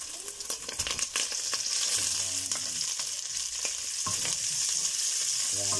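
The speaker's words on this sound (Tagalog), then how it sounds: "Halo lang natin yan." Onions frying in a pan sizzle steadily while a utensil stirs and scrapes through them, with a constant hiss and repeated clinks and scrapes close by.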